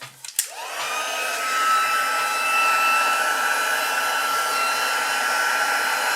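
A heat gun for heat embossing clicks on and ramps up into a steady, loud whooshing blower hum with a rising whine, running continuously and alone for several seconds.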